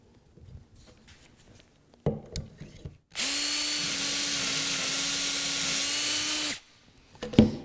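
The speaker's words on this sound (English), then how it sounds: "So I'm going to drill" A power drill bores into wood through a doweling jig in one sustained burst of about three seconds, loud and steady, set between quiet handling clicks and shuffling before and after.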